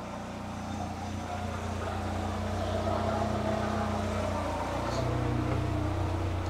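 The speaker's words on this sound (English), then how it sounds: "The engine has been idling for 20 minutes." Renault Clio 1.8 16v engine idling while hot, with a fault that causes a noisy lifter; a steady, even drone holds throughout without change.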